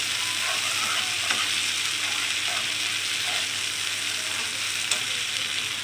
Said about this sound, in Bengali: মশলাটা আর একটু ভেজে নেব।